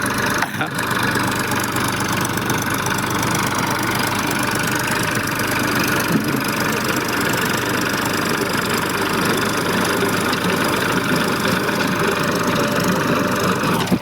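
A tractor engine runs steadily and loudly throughout, a continuous rumbling drone with a brief knock near the start.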